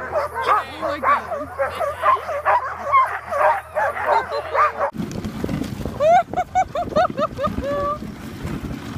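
Huskies pulling a dog sled in snowy Lapland on Christmas Day bark and yip excitedly in a loud, busy chorus, then whine and yelp in high, wavering cries over wind and rushing movement.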